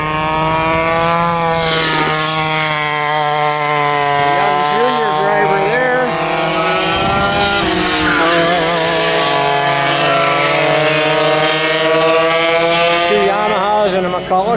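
Vintage racing kart engines scream at maximum RPM around a track at a vintage karting event, a loud continuous high-pitched whine with pitch rising and dipping through the corners, several motors overlapping close by.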